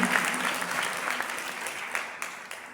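A congregation claps loudly and continuously at a church prayer meeting, with a dense wash of applause that thins slightly toward the end and a few sharper claps standing out.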